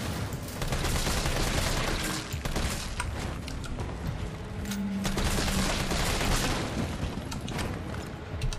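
Dense, continuous gunfire in the video game Resident Evil 3 Remake, loud and sustained throughout with rapid overlapping shots and booms.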